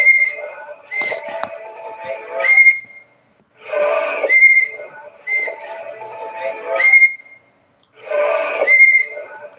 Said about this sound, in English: They just caught a video where this child is playing with a whistle